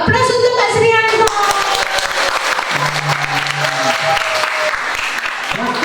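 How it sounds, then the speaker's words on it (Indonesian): An Indonesian school gathering bursts into loud, continuous applause for Pak Srianto, thick hand-clapping throughout, with some voiced and tonal sounds mixed in near the start and a brief held tone in the middle. "Aplaus untuk Pak Srianto"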